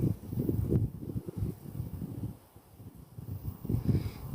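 Wind pushes against an open-air microphone under a night sky, a faint, irregular low buffeting that comes in waves, eases off midway, then picks up again.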